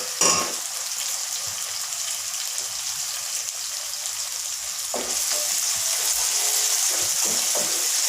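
Green chillies sizzle in hot oil in a pan, a steady bright crackling hiss that grows a little louder midway, with a few faint clinks of utensils and no talking.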